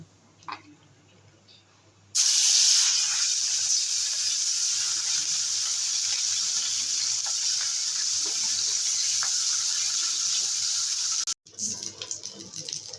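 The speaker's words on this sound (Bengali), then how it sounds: "গরম হয়ে গেছে মাছগুলো ভেজে নেব" Baim eel fish rubbed with salt and turmeric drops into hot oil and breaks into a loud, steady sizzle. Quiet comes first, then the hiss holds for about nine seconds before stopping abruptly.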